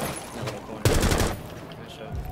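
A burst of automatic gunfire in the Rainbow Six Siege video game crackles in a short rapid volley midway, set against constant busy game noise.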